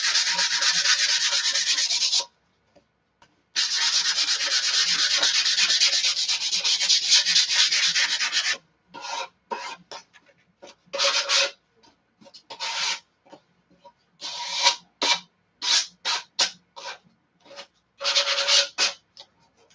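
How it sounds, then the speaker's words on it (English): Sandpaper quickly rubs across the surface of a cured resin piece, first in long steady strokes, then in short choppy bursts with brief pauses, close and fairly loud with no talking. "I'm going to just give it a quick sand"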